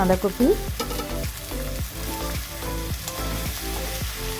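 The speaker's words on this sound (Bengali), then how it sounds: "নেড়ে চেড়ে ভেজে নিলাম।" Spices with chopped garlic fry in hot oil in a pan for a cabbage dish, with a steady close sizzle under rhythmic scraping strokes of a spoon stirring throughout.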